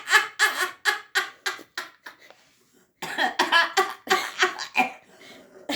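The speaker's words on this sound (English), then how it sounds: "I made her laugh so much she's coughing." A burst of rapid coughs mixed with laughter, fading briefly, then another run of coughing and giggling fits, close and loud.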